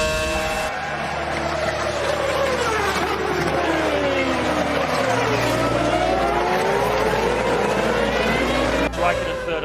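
Formula 1 race cars screaming past at about 160 miles an hour, engine pitch sweeping up and down as they pass, loud and continuous under a commentator's steady talk.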